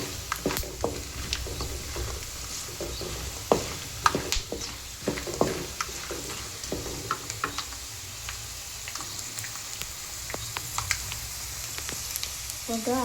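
Ragi poha, finger-millet flakes, fry and crackle in a pan while being stirred, with a steady sizzle broken by sharp scraping and clicking ticks from the spoon throughout, nearby and fairly loud.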